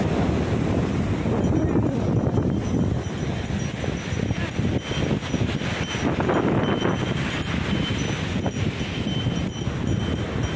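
Steady roar of ocean surf washing continuously onto Marina Beach near the lighthouse, heavily mixed with gusty wind buffeting the microphone, no pauses.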